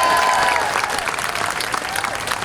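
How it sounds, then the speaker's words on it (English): An audience at a Texas State Employee Union gathering gives sustained, loud, even applause from a full crowd, with no pause throughout. "let's give all of the speakers a round of applause that have spoken so far"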